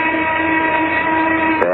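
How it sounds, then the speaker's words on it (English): A noon whistle blowing as one loud, sustained, steady tone rich in harmonics, holding for nearly two seconds before it starts to fall away at the end. "There's the noon whistle."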